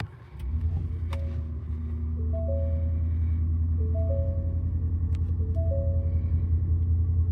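A 2025 Ford F-150 Tremor pickup starts by push-button and settles into a steady, close idle with a deep low rumble, while soft chimes repeat over the running engine.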